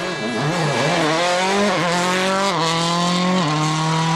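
François Duval's rally car on a WRC stage in 2007, its engine roaring loudly and steadily with repeated rising revs and sharp drops at gear shifts, close and continuous.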